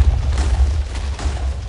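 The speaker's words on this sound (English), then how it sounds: "Yay, explosion." TNT explodes in the video game Minecraft, a rumbling burst of deep booms and crackling blasts rolling together at close range, loud and continuous with uneven pulses.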